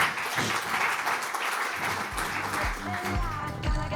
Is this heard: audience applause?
yes